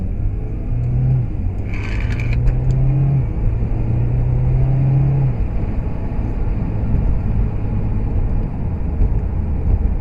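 A Mitsubishi Evo X MR engine drones and climbs in pitch through a few gear pulls in manual mode, then settles into a steady road rumble with a brief clatter early on.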